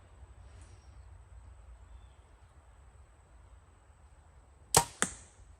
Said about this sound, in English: I'll pull those arrows, then shoot at an actual target.